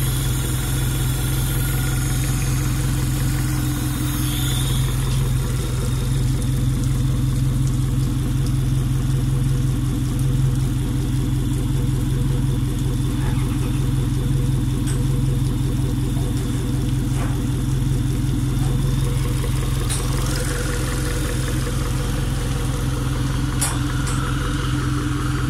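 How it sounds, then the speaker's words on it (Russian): A new engine idles steadily at close range, a constant low rumble with an even mechanical vibration that holds unchanged throughout, with no talking. "Состояние нового мотора."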